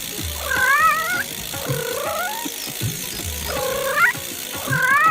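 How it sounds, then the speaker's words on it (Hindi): A cartoon cat meows repeatedly in rising, wavering cries, about four distinct meows spread evenly with short pauses, loud and close with no talking. "अरे म्याऊं म्याऊं करके मेरे पीछे पड़ी हो"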